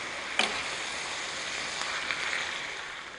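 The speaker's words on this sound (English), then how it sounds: "at this stage of the squash cooking with the bacon and the onion, it's a pretty dish" Squash cooking with bacon and onion in a pan, a soft, steady sizzle with a few faint ticks and clinks, quiet and without talk.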